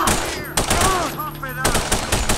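Gunfire from The Punisher on the original Xbox: loud, rapid bursts of automatic shots in two clusters separated by a short pause, mixed with game voices and effects.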